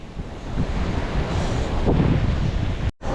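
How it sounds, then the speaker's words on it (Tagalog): Strong sea waves roar and surge continuously, mixed with heavy wind buffeting the microphone, ending in a sudden brief dropout. "Lakas pa rin dagat mga bok oh."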